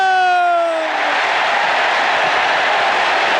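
A loud stadium crowd roars and cheers after an Eagles touchdown in a 1992 game against the Broncos, a dense continuous wall of noise with a whistle-like tone fading out early.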